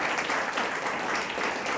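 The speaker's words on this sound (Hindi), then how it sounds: "सभी विद्यार्थी जोरदार तालियों के साथ में ना उत्साहवर्धन करें कौशल्या का" Students in a classroom clap together in a dense, continuous burst of applause that fills the brief moment at steady strength.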